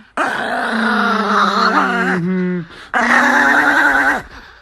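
A chihuahua growls close by in long, voiced, groaning snarls, two sustained bursts with a brief gap between them, loud and alone.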